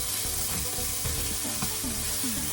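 Onions and garlic sauté in a hot pan with a dense, even sizzle, broken by a few light scrapes and clicks of stirring, close and constant.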